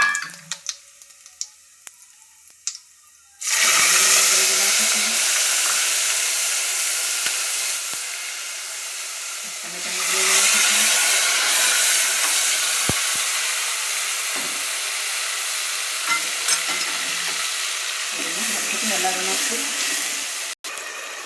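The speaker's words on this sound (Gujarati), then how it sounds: "રાઈ જીરું નાખીશું, ઘી નાખીશું, થોડો ગરમ મસાલો નાખીશું અને એનો વઘાર કરીશું" After a quiet start with faint clinks, a loud burst of sizzling erupts as mustard seeds, cumin and garam masala hit hot ghee for Kathiyawadi undhiyu, then a steady crackling hiss carries on.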